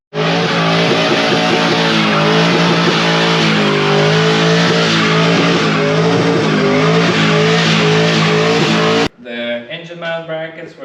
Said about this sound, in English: Why, it does do a burnout, Nick.